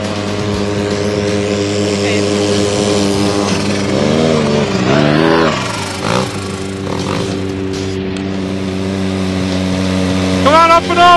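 A turbocharged RZR side-by-side runs close with a steady engine drone, rising in pitch as it revs hard, then briefly easing before another sharp rev, with people talking over it.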